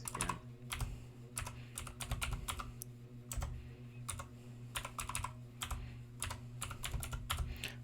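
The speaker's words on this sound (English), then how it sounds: "I can't really type, so I'm having to use one hand right now." Rapid, irregular clicks come from a computer keyboard set at an odd angle for gaming, tapped in short uneven bursts with brief pauses, close and fairly quiet over a low steady hum.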